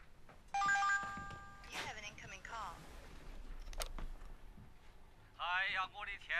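A phone rings late at night indoors: a short, loud, close melodic electronic ring of stacked tones lasting just over a second, followed by people talking and a brief sharp tone amid the conversation.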